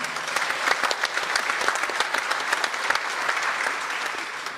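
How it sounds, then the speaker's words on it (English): At a climate summit in Greater Bendigo, an audience applauds an introduced speaker: sustained, even clapping from a large seated crowd, moderately loud and steady throughout before easing slightly at the end. "Huge round of applause, Annika."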